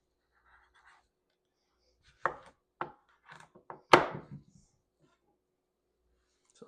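A knife chops through squash on a cutting board in a quiet kitchen: a handful of crisp, irregular thunks, the loudest near the end of the run, with long gaps of near silence.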